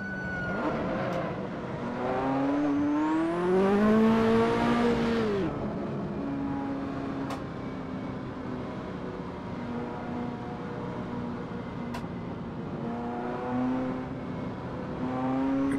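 Car in Assetto Corsa revs up with a rising engine pitch, peaks and fades as it passes, then a steady engine hum continues, with a second rise toward the end.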